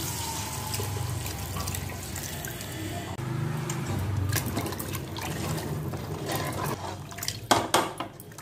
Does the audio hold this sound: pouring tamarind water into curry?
yes